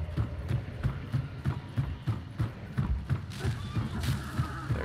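Horse running in the Hunt: Showdown video game, a quick regular hoofbeat rhythm of clip-clop thuds at moderate distance, fairly quiet, with some background game noise toward the end.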